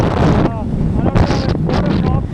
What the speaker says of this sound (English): this is totally unaudible I guess because it's too windy